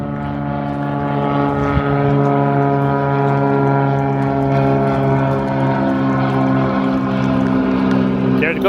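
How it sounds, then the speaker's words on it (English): A propeller airplane passes overhead at Toronto's Harbourfront Centre on the waterfront, a steady loud droning hum with layered engine tones across the whole stretch and faint shifts near the end. "oh, there's a plane."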